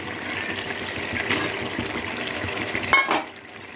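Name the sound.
minced mutton (keema) added to tomatoes in pan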